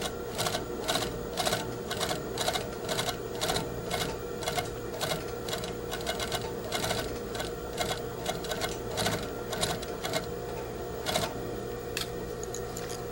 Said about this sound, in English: Care should be taken when stitching a curve that you do not form